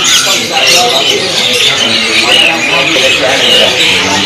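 A pair of Taiwan canaries in a bird-shop kiosk gives off dense, continuous chirping and squawking throughout, loud and close, mixed with other caged birds.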